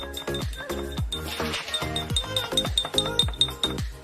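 A spoon clinks rhythmically against a glass while stirring an herbal mixture, about a dozen bright, ringing taps in a steady brisk pattern, close and clear.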